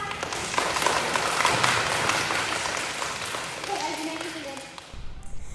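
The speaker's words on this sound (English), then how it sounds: "give us a round of applause" Classroom crowd clapping at a first-grade school awards ceremony, a dense steady patter of many hands that tapers off near the end, with faint voices mixed in.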